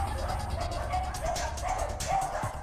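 Several dogs penned in an open shed at a puppy farm bark and whimper in short, repeated yips, moderately distant, with a faint low rumble underneath.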